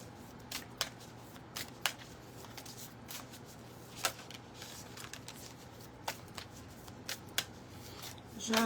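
Oracle cards are shuffled by hand in a run of crisp, irregular riffling snaps and flicks, fairly close, with a low steady hum underneath and a brief louder burst at the end.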